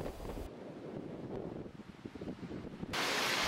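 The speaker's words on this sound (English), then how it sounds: "At the foot of the point is this rock outcrop that the waves crash against and cormorants hang out on." Ocean waves crash against a rock outcrop at Point Reyes on the California coast, a rough, rushing surge mixed with heavy wind buffeting the microphone, with no voices.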